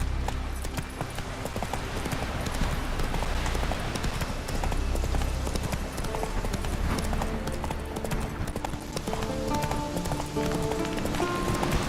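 Hoofbeats of a horse galloping in The Witcher 3 video game run steadily and fairly loud for the whole stretch, mixed with game music and ambient sound, with a brief neigh possible.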